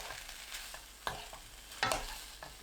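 Stir-fried bean sprouts are mixed off the heat with egg, perilla oil, pepper and green onion in a pan. Soft, quiet tossing and sizzling carry a couple of sharper spatula scrapes, close by and without voices.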